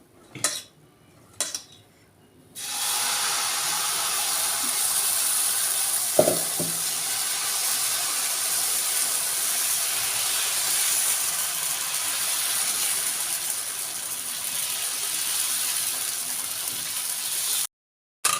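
After a few clinks, dosa batter hits a hot pan and a loud, steady sizzle hisses on for many seconds, then cuts off abruptly.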